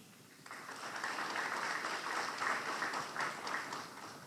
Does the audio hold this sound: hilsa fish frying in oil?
no